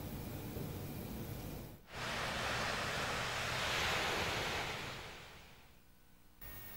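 Ocean waves wash steadily onto Wates Beach in Antiga Kelod, Karangasem, Bali, a trash-strewn shore where river outlets meet the sea; broad, continuous surf hiss with wind, swelling in the middle and easing toward the end, with no voices.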